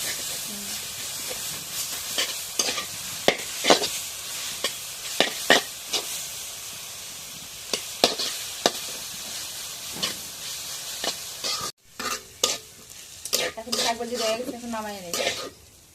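Onion and garlic frying in hot oil in a kadai: a continuous sizzling hiss broken by repeated scraping stirs of a utensil against the pan, fairly close, with a brief voice near the end.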